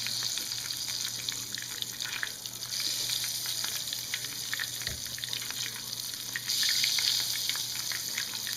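Ebelskiver batter sizzles in melted butter in the pan, a steady close frying hiss that runs the whole time and grows a little brighter near the end.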